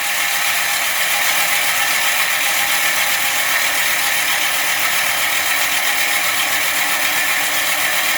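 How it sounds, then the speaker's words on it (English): A reel mower blade spun backwards with grinding compound while backlapping, giving a steady, loud, even hissing grind. It continues without pause, with no talking. "we're going to spin the blade backwards."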